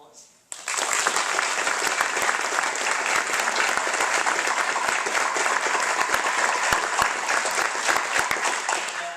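An audience at a law school moot court finals ceremony breaks into loud, dense applause that holds steady for several seconds after a quiet start.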